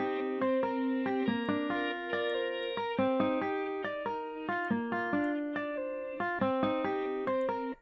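A clean electric guitar picks a melodic pattern with a stereo enhancer effect, the plucked notes ringing clearly in an even rhythm with moderate loudness and no voices.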